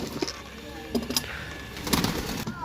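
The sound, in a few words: pigeons cooing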